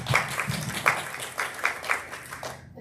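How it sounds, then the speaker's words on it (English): Sparse, hesitant applause from a parish hall audience welcoming speaker Becca Stevens, a few scattered claps over a couple of seconds that quickly thin out and fade. "Timid applause at best."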